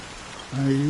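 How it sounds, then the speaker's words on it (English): Steady rain falls in the video game Honkai: Star Rail, a soft constant hiss that swells slightly as a sustained tonal sound enters midway. "how long has this rain been going on for?"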